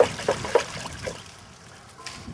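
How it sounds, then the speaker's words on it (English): Water trickling and splashing as it is poured slowly into a freshly dug planting hole while planting a tree at a garden nursery, with a few short close splashes at the start and a softer dribble that tapers off. "you slowly pour it into your hole so you don't disperse all your dirt"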